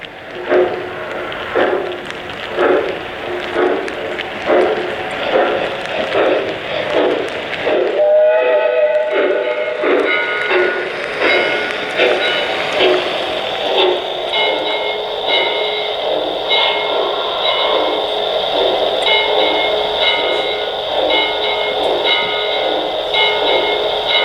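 A Reading tank steam locomotive's rhythmic chuffing gives way to a long, steady, multi-tone whistle that sounds drawn out and mournful, with rail clatter continuing underneath.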